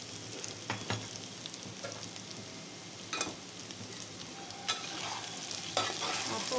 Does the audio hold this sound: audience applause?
no